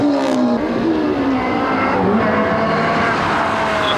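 A turbocharged Honda S2000 race car accelerates hard down a drag strip, its engine climbing loudly through a gear shift with a falling whine, close and continuous with no talking.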